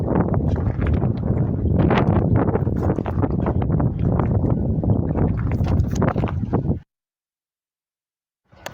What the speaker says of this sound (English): I know it's a little breezy and that makes it hard to hear.